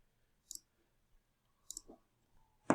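Backspace pressed on a computer keyboard: three separate sharp plastic clicks with quiet pauses between them, the last one louder and closer, with no talking.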